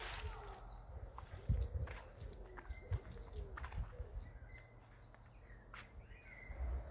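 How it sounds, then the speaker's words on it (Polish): Birds singing outdoors on a warm spring day near a pigeon, with repeated chirps and whistled calls at moderate distance over a faint background rumble, plus occasional soft thumps and taps. "Jak ładnie ptaszki śpiewają."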